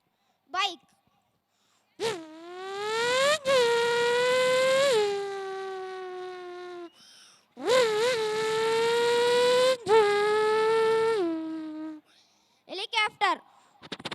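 A voice imitates a motorbike engine at a school event: two long revving drones that climb in pitch, hold and drop off, loud and close, with short breathy sounds between and after.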